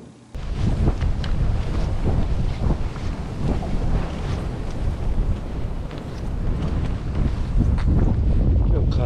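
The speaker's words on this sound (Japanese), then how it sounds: "今日風10メートル以上が吹いてる。" Strong wind of over ten meters per second buffets the microphone at Lake Hamana during a dango fishing trip, a loud continuous roaring rumble with gusting surges throughout.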